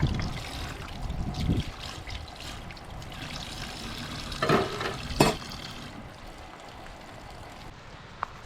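At a tent campsite, water trickles from a nearly empty water jug onto dishes being rinsed, with a faint uneven dribble and a few brief, louder splashes before it thins out.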